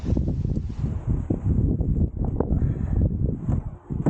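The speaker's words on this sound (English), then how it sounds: "It is quite windy day today" Gusty wind buffets the microphone outdoors on a blustery day, a loud, steady low roar with rustling surges, no other sounds standing out.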